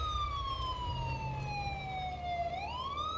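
Swapped-in police siren in GTA V running the LSPDFR mod, a steady loud wailing tone gliding down and then climbing back up, with vehicle rumble underneath.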